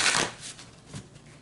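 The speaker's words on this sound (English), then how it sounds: "let me go ahead and shuffle these cards." A deck of tarot cards is shuffled, one brisk riffle of papery flutter up close, then softer rustles fading out, heard alone without speech.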